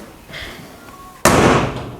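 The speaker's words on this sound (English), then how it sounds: "then we can close this door to check it out" A front door is swung closed after being glued, ending in one loud, sharp slam about halfway through, preceded by quiet creaks and faint handling sounds.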